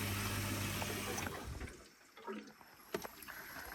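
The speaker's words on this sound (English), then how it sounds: "So I can hear the air coming out as well." Steady hissing and gurgling of air and water escaping from a Heatline Capriz combi boiler vent, with a low hum and a few faint clicks near the end.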